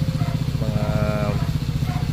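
A 2023 Italjet Dragster 200cc scooter-style motorcycle idles close by after a short ride, its engine putting out a steady low, pulsing putter with a brief rising rev in the middle.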